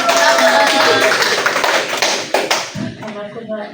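A classroom group bursts into brisk, dense applause that fills the room at close range, then quickly thins out and stops.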